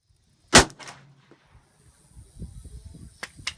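A single sharp, loud gunshot cracks out once and decays quickly at an IDPA shooting chrono check where bullet speed is measured by a Doppler lab radar chronograph, followed by quieter rustling and faint clicks.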